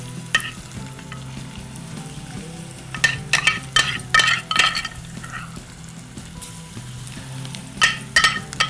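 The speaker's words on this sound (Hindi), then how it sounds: "यहाँ पर हमने कड़ी पत्ता और प्याज इसके अंदर डाल दिए। इसको थोड़ा सा हम करेंगे सौते।" Curry leaves and onions sautéing in a pan, a steady close sizzle broken by clusters of sharp scraping stirs and spatula clinks against the metal.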